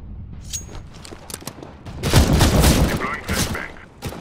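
Gunfire and a grenade blast in Counter-Strike: Global Offensive, scattered sharp shots leading into a loud, dense burst of rapid fire and rumbling explosion in the middle, with faint voice fragments.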